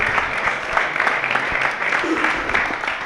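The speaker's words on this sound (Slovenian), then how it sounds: "Z nami je Alojz, en velik aplavz, prosim" Audience at a FuckUp Night event in Maribor, Slovenia, giving a speaker a warm welcome, steady dense applause from a sizable crowd throughout, with some voices mixed into the clapping.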